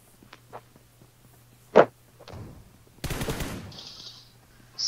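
Gunfire from the mobile game PUBG Mobile: a sharp single shot, then a burst of rapid automatic fire, with scattered footstep-like taps and game effects, loud and close, no voices over it.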